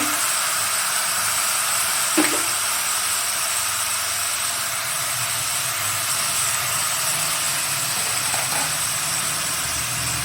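Mutton and chopped tomato hit a hot pan for a khashir mangsho jhol. A loud, steady, wideband sizzle hisses continuously for about ten seconds, with a couple of faint clinks and no voices.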